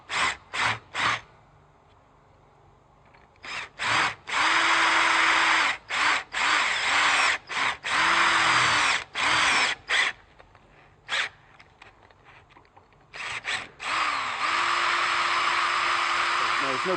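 A power drill bores through plasma rope fitted on a drum, running in repeated short bursts and longer sustained runs with pauses between, loud and close.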